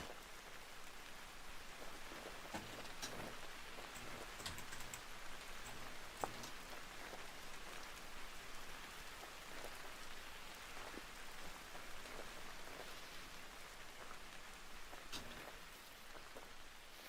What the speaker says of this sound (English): Oh, is it raining? It's raining.